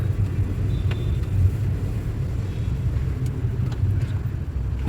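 Traffic on a one-way street in Chennai, a dense continuous low rumble of engines with occasional faint horn-like tones above it.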